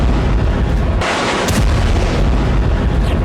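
Rocket strikes in Gaza during the Israel-Palestine war make a loud, continuous, roaring rumble with a heavier blast near the middle. No voices are heard.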